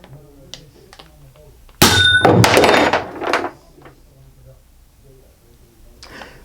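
An air cannon fires a 10-gram ABS-coated steel projectile, a single loud metallic bang with a ringing clang that fades after about a second, set against quiet background sounds and a voice.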